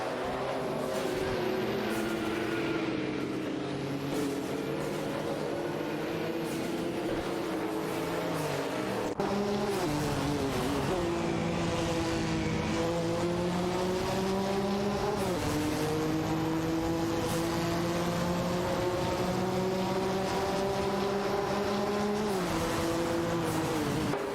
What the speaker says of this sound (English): Automobile dashing away.